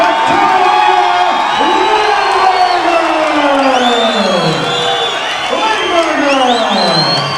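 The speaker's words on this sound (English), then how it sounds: "Crowds are excited" A large arena crowd at a heavyweight boxing match cheers and whoops loudly and continuously, a dense roar of many voices with shouting rising over it as a fighter is introduced.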